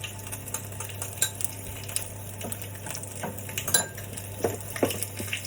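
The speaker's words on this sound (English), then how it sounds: "Give it a good stir" A vinaigrette with French mustard is stirred in a kitchen, soft clinks and scrapes of a utensil against a bowl over a low hum, with faint frying sounds and no talking.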